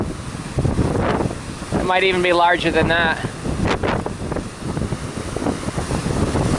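Strong wind buffets a boat out at sea in big waves, a loud blustery roar and gusting microphone rumble throughout, with someone talking over it in the middle.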